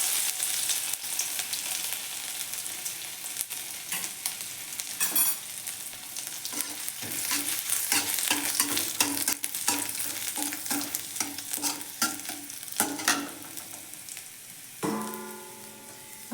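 Ginger sizzles steadily in hot oil in a wok, with repeated scraping stirs and clatters over the continuous crackle, close and fairly loud, ending with a brief metallic knock.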